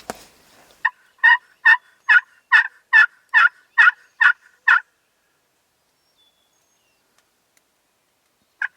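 A wild turkey gobbles on a spring morning in the Kentucky woods on opening day of the hunting season, a quick run of about ten sharp gobbling bursts in steady rhythm, then quiet with one more call at the end.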